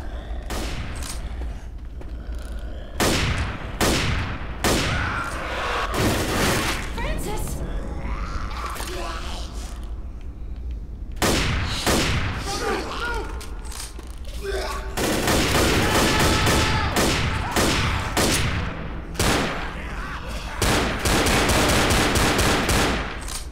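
Rapid gunfire in the video game Left 4 Dead, loud sustained bursts and volleys that continue almost without pause, with players talking over the shooting.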